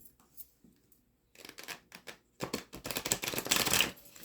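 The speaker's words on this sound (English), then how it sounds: "Get you some good shuffles in." A tarot deck being shuffled close by, starting with a few soft riffles and building to a denser, louder flurry of crisp card flicks.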